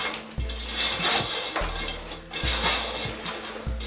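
A thick rocky road mixture with raisins and sultanas is stirred in a bowl, giving repeated close clunks and scrapes of the spoon against the bowl in an uneven rhythm, with no talking.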